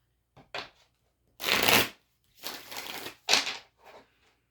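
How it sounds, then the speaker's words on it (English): Playing cards are shuffled close up in several quick riffling bursts, each a crisp rapid flutter lasting about half a second, separated by brief pauses, with no talking. "Now I'm going to shuffle some cards"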